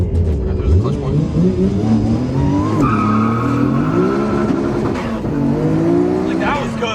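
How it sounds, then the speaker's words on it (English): A Nissan Skyline launching hard with all four wheels spinning, its engine revving loudly with rising and falling pitch while tires squeal, steady and close throughout, with people talking over it. "spinning all 4 with noise is different"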